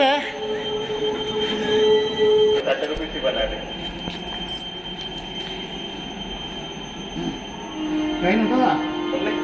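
A Hyderabad metro train runs along the line, its rumble and steel wheel squeal rising and falling with a tonal whine and a chime, with people's voices faintly audible around it.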